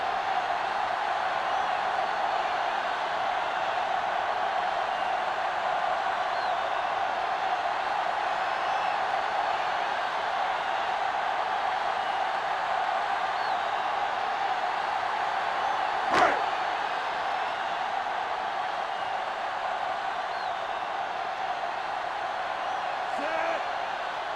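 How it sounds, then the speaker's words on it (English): Stadium crowd at a VFL football game, a steady loud roar of cheering throughout with one sharp slam-like crack near the middle, a commentator's voice woven in. "The crowd's into it."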